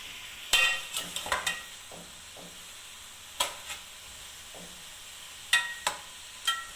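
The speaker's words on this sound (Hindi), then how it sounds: "चिकन जब तक चिकन भून रहे हैं" Chicken pieces frying and being stirred in a karahi over high heat, a quiet sizzle broken by several sharp scraping, clattering stirs spaced through the clip, with no talking.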